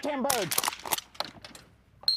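Several sharp, distant gunshot cracks ring out one after another across a quiet field at a bird dog field trial, with a faint voice and a whistle-like tone at the start.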